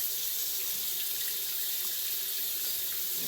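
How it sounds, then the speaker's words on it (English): Water from a tap runs in a steady, even hiss while locs are being rinsed, loud and close with no pauses or talk. "I'm about to rinse these out"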